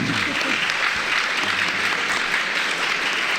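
An audience at a live student event claps steadily throughout, a dense roomful of hands with a few faint voices mixed underneath.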